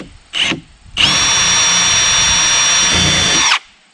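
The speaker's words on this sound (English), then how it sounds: "I'm going to drill a pilot hole in here to see where it comes through on the other side" A new cordless drill boring a thin pilot hole through a surface while installing an electric meter plug: a short burst, a pause, then a steady, loud, high whine with a grinding bite that holds for about two and a half seconds before stopping.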